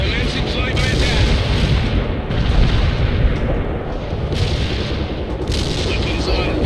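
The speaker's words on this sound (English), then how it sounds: "I have incoming artillery fire on all my positions" Artillery shells land in the real-time strategy game World in Conflict, loud dense rolling booms and rumbling blasts that continue without a break, with radio-style voices talking over the barrage.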